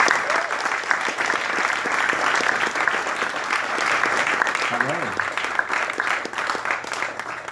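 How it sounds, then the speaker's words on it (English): A bookstore audience gives a warm round of applause, a continuous crackle of many hands clapping at moderate level, with a brief voice cutting through near the middle. "Let's please give him a warm round of applause."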